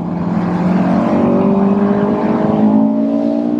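A Honda S2000 roadster's high-revving engine climbs steadily in pitch as it pulls up through the RPM range into VTEC, a loud, continuous rising wail heard from inside the car without talk.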